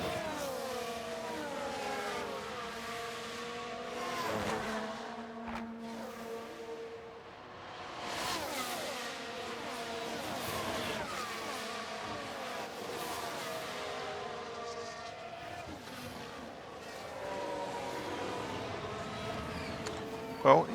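Formula 1 cars in the F1 Manager 2023 racing game, engines whining and shifting pitch continuously as cars race and pass, with speech over the top throughout.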